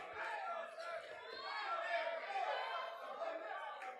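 A crowd at a college baseball game in Hattiesburg, a faint, distant wash of many voices chattering and calling out, swelling slightly in the middle and staying steady with no single voice standing out.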